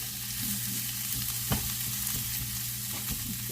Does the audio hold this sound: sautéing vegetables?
yes